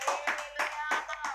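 A church congregation claps hands in thanksgiving during a pastor's sermon, a few close rhythmic bursts of clapping mixed with voices, each clap sharp and ringing in the room.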